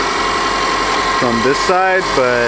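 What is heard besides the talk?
rebuilt Subaru EJ25 engine idling with small exhaust leak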